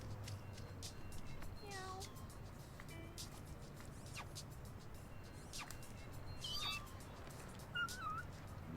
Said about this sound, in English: they make the cutest little noises